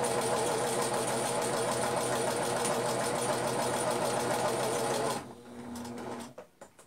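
A sewing machine runs steadily while stitching along a marked line on a shirt collar, with a loud, continuous mechanical whir that stops near the end, leaving a few short clicks and knocks.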